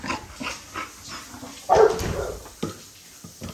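A dog barks and yips in short bursts in a home, with louder barks mid-clip and whimpery sounds between, fairly close and without speech.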